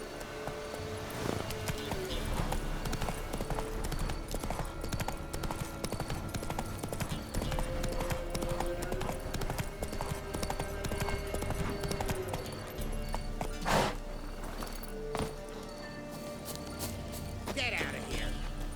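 Roach, Geralt's horse in The Witcher 3 game, clops along with steady hoofbeats beneath a dense bed of game music, ambience and some talk, the galloping rhythm partly buried in the mix.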